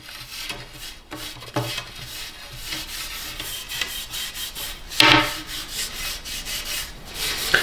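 Homemade non-toxic wood preserver being rubbed into a wooden bow by hand: soft, close scuffing and rubbing strokes with a few sharper scrapes, no voices.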